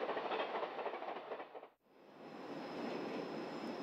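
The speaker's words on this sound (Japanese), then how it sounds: "日本本線を走るレッドエクスプレスの485系、この日が最後の運転となりました。" A JR 485 series Red Express train running on the Nippō Main Line in Kyushu, its wheels and carriages giving a steady rushing rumble with rhythmic clatter, briefly dipping before resuming, heard at moderate distance without speech.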